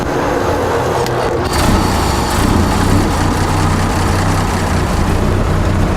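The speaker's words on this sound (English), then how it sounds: "The car is a Big 6, has 354 cubic inch engine" An antique Big 6 car with a 354 cubic inch engine runs steadily at idle, a loud continuous rumble with a slight swell partway through and no talking.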